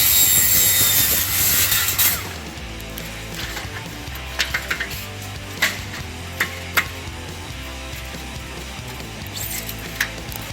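A saw cutting aluminum fence pickets guided along a straight-edge jig, a loud harsh whine for the first two seconds, followed by quieter rattling, scraping and a few sharp taps.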